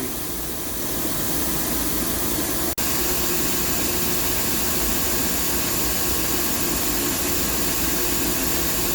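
A Tsugami B0326II CNC Swiss lathe runs its sub spindle with a constant, even mechanical hum and hiss, broken once by a single sharp click.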